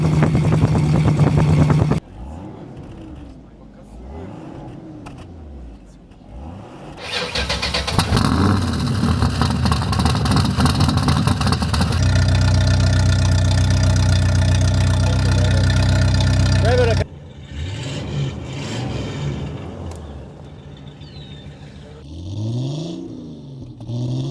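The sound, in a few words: classic car engine exhaust notes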